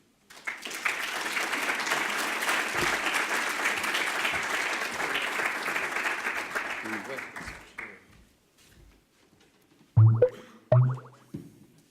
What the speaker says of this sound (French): Donc je vous demande sous applaudissements de bien vouloir l'accueillir sur scène.